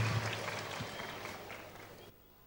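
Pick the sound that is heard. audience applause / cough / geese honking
audience applause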